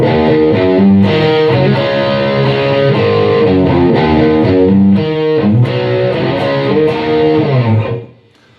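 A loud distorted electric guitar plays the driving, repeating chorus riff of a song, with chugging low notes, stopping abruptly near the end.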